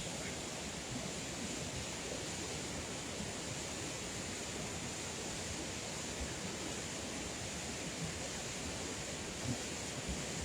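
Small hidden waterfalls and cascading water in winter at the marmites and Saut de la Saisse, giving a steady, dense rush that stays even and unbroken throughout without any voices.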